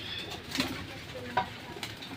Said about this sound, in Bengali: সব সিলভার বাঘা কবুতর সব সবগুলো কবুতরই সিলভার বাঘা